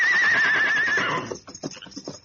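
A horse gives a loud, close whinny lasting about a second, followed by several light hoof clip-clops on the ground.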